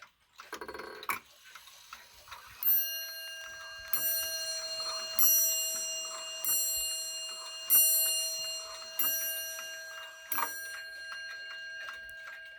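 A Waterbury chime clock, number 401, ticks in a quiet room, with each beat ringing out as a bright metallic strike that decays slowly, repeating at a steady interval after a brief rustle at the start.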